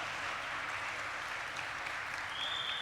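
Audience applause in a panel discussion on the future of Bollywood, a dense, steady wash of many hands clapping at constant loudness throughout, with no talk over it.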